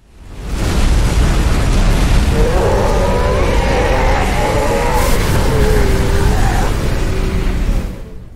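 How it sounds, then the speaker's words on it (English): Reactors blowing up inside High Charity in Halo's Cortana level, a sustained, loud roaring explosion that rumbles for several seconds while a distorted voice speaks over it, then fades out. "players blow up a series of reactors in order to destroy High Charity"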